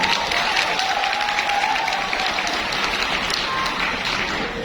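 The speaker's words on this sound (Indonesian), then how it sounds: "Beri tepuk tangan untuk Ino." A church congregation applauds steadily and loudly, a thick even wash of many hands clapping throughout, with a faint voice beneath.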